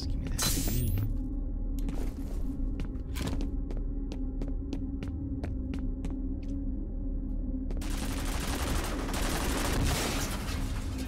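A big gun fires in the shooter game F.E.A.R., with a rapid series of sharp, evenly spaced shots cracking over a low constant hum before giving way to a loud, rumbling wash of noise.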